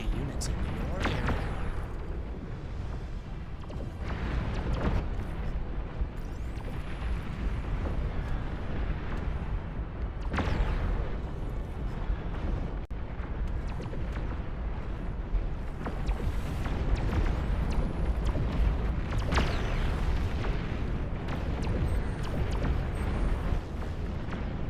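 Plasma cannon fire in the Beyond All Reason strategy game, a dense barrage of booming blasts and bursts layered continuously over a loud battle din, with a voice talking over it.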